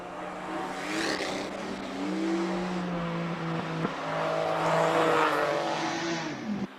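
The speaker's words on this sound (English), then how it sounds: "Number 13 up next. Mark Kirk in the Porsche GTS." A Porsche GTS race car at the Cape Town hill climb speed classic, its engine revving hard and shifting through gears as it climbs, loud and sustained, then fading slightly with distance.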